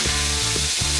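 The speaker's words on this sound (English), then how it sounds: "There's that sizzle." Chicken sizzles steadily in hot oil in a pan, a bright hissing crackle that carries on without pause, close and fairly loud.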